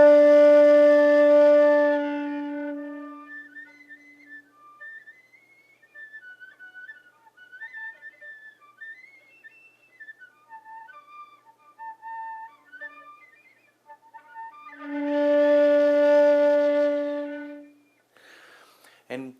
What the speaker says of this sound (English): whistle tones in D, first octave